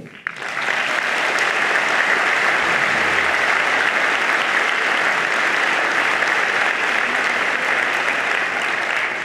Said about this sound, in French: Je voudrais partager vos applaudissements